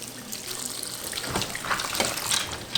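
Dried beans for 15 bean soup rinsed under a running kitchen tap, a steady close splash of water hitting the beans in a sink with small rattling shifts through the rinse.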